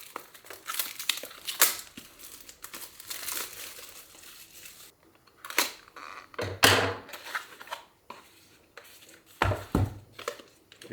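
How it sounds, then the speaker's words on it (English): Packaging for a Llano 30000mAh 100W USB-C power bank is ripped open by hand, bursts of close crinkling and tearing separated by short quiet gaps. "So let's rip this open and see what's inside."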